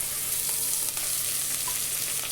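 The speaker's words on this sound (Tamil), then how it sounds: "இந்த காய்கறியெல்லாம் பச்சை வாசனை போகிற அளவுக்கு வதக்கி எடுத்துக்குவோம்." Mixed vegetables sautéing in a pan for a Tamil kara kulambu, added after tomatoes have cooked down, give a steady close sizzle and fry hiss with faint stirring ticks throughout.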